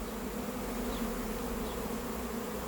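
Honeybees from a freshly settled swarm buzz in a thick, unbroken drone close by while the swarm is being collected at Vaux-le-Pénil, loud and steady throughout.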